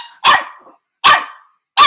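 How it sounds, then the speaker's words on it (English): A dog barks three times, loud and close, each bark sharp and separated by short silences. "Why is you barking?"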